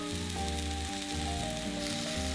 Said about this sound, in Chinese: 因为旁边的料有在煎，可以享受酥脆的口感